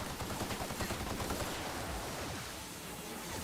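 Electric ammo gunfire in the video game The Outer Worlds comes as a dense, rapid burst of shots that fades slightly toward the end, heard alone with no talk.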